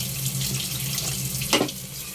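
Water pours steadily into a cooking pot for the greens and carninas dish, a continuous splashing rush with a brief louder gush partway through and no voices.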